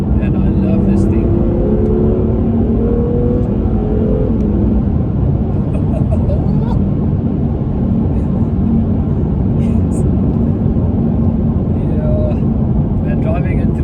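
A BMW M2 Competition on winding mountain roads around Paarl gives a loud, steady engine and road drone heard from inside the car, with someone talking over it the whole time.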